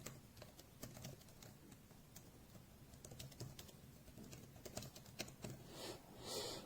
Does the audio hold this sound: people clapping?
no